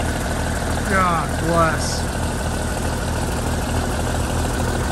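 A 1947 Auburn six-cylinder tractor engine with a 6-volt system idles steadily nearby, a low even rumble that runs under a voice for the whole stretch.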